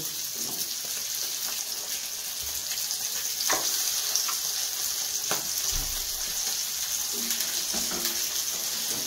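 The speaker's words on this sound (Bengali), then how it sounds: "এখন আমি দেখো কড়ার মধ্যে আলুগুলো দিয়ে দিচ্ছি। তেল গরম হয়ে গেছে।" Potatoes frying in hot oil in a kadai give a steady, close, loud sizzle with bubbling hiss throughout, broken by a few brief scraping stirs, and no voices.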